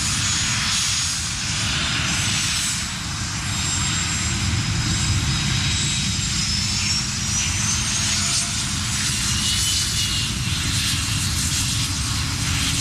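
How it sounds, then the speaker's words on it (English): Patrouille de France aerobatic team jets pass close overhead in a continuous, loud engine roar with a sustained broadband rush and rising whine, filling the whole stretch without letup. "Aerobatic teams, and right now it's the Patrouille de France."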